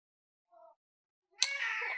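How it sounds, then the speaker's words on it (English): Two cats meowing at home: a short faint mew first, then after a pause a louder, longer drawn-out cry that holds to the end, close by with no talking. "I hope everyone heard my cats."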